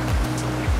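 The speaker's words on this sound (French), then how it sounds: "Mais le courant est plus fort, les vagues sont plus fortes aussi." Strong ocean surf breaking on a steep Hawaiian beach, a continuous loud wash of waves with low rumbling surges swelling and easing over under a second, no voices.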